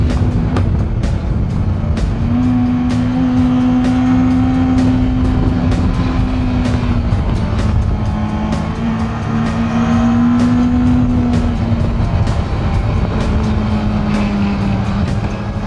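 Performance motorbikes lapping a race track, a continuous loud engine drone with shifting pitch as the bikes rev through corners and straights, steady and close throughout with no voices.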